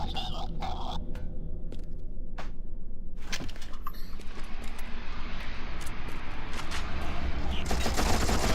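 Rapid gunfire rattles in the video game You Are Empty, a loud, continuous burst of shots that builds after a few sharp hits and a pause into a dense, sustained barrage.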